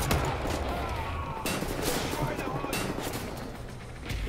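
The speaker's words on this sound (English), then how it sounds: "keeps shooting at me." Sustained gunfire from a Wolfenstein: The New Order firefight, dense and continuous across the whole stretch with a few louder bursts, while a player talks over it.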